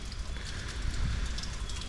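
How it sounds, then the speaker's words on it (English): Steady rain falling outdoors near storage units, a continuous hissing patter of drops on surfaces at moderate level, even and unbroken throughout, with no voices. "It's been raining for a little bit."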